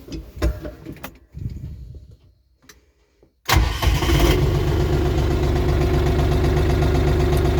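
Diesel engine of a DF 244 mini tractor with a cab: a few clicks and thumps, a short starter crank, then the engine catches abruptly and settles into a loud, steady idle close by.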